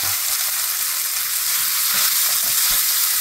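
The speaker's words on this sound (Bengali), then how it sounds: "ফোড়নটা চিরবির করতে আরম্ভ করলে ওর মধ্যে দিয়ে দিলাম কুচানো চালতাগুলো" Chopped elephant apple tipped into a crackling tempering of dried red chillies and black mustard seeds fries with a dense, continuous sizzle, with faint stirring knocks underneath.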